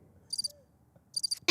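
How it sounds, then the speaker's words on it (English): A cricket-chirping sound effect triggered from a sampling pad in a home studio: two clusters of fast, high, pulsed chirps separated by near-silence, ending in a sudden sharp burst, with no talking. "It's crickets."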